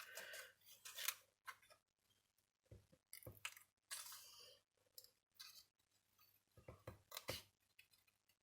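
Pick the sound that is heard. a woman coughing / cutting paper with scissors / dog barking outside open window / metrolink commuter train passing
cutting paper with scissors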